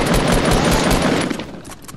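Sustained rapid automatic gunfire in Fortnite during a fight between two squads, loud and close, a dense stream of shots with no break, tapering slightly toward the end.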